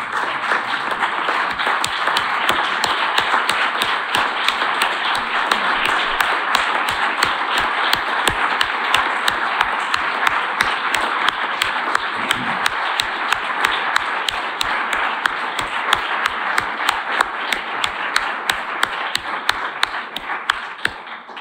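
Sustained applause from a large crowd at a university diploma ceremony, steady and dense throughout, with some rhythmic clapping emerging.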